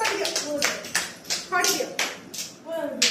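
Small children in a classroom activity clap their hands in a series of distinct, uneven claps, roughly one every half second, while an adult and children talk over them.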